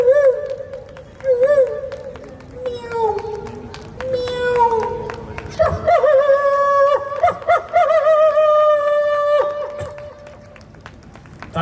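A voice imitates the call of a koel bird on stage at a Hindi poetry gathering, repeated rising whistled notes in a series, then a crowd cheering and clapping loudly underneath.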